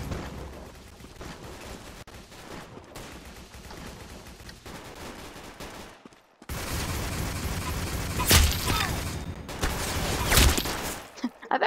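Rapid gunfire from a gun in the Roblox game Arsenal, with sparse shots at first, then denser, louder volleys and sharp bangs in the second half, with a voice talking at times.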